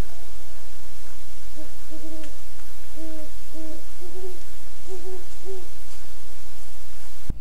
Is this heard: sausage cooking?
no